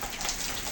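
Steady rain falling and pattering on surfaces outdoors after a downpour in the UAE, a continuous broadband hiss of drops with no voices.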